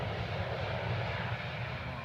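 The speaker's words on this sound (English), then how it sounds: "the faulty Virgin Atlantic plane had a bumpy but successful landing at Gatwick" Faulty Virgin Atlantic airliner landing at Gatwick Airport, a steady loud aircraft engine roar with low rumble, continuous with no breaks.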